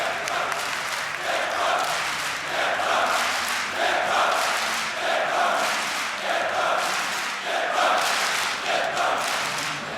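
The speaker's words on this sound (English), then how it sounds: "The home crowd is going nuts right now." A home crowd roars and chants at the DreamHack Winter 2014 CS:GO championship finals between LDLC.com and NIP. A huge, dense arena cheer comes in rhythmic surging waves and keeps going loud throughout.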